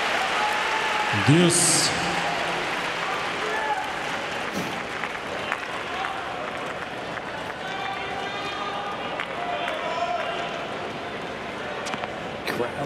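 A night-session tennis crowd in Arthur Ashe Stadium at the US Open claps and cheers steadily, with broadcast commentary and an umpire's call over the noise.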